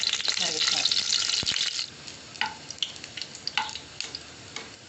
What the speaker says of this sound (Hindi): ऑयल हमारा गर्म हो गया है, थोड़ा सा लहसुन डाल देंगे जो हमने क्रश करके रखा है